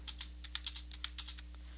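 Quick, irregular keystrokes on a computer keyboard while entering Python loop code, crisp clicks at a moderate pace, heard alone and close with no talking.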